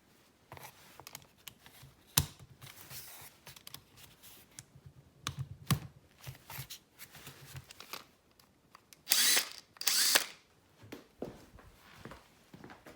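A cordless drill backs Torx screws out of a Civic during antenna removal, giving two short close whirring bursts toward the end after scattered clicks and taps of handling.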